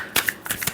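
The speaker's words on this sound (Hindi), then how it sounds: "Last shuffle." A brief handful of close, crisp card flicks and taps as a tarot deck is shuffled, a few quick sharp bursts with no voice.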